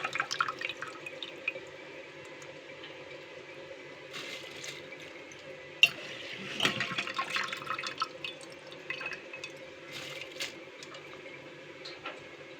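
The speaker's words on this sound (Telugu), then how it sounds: "ఇదిగోండి కొబ్బరి నీళ్ళు మసులుతున్నాయి కదా." Coconut water bubbles gently in a pot with rice just added, for coconut rice, soft irregular bubbling and dripping with a faint steady hum beneath, quiet and close, with occasional clinks and stirring splashes.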